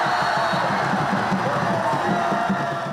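A volleyball crowd in the stands at a French Cup semifinal roars with cheers and whoops, a loud dense wall of voices held steady and close throughout.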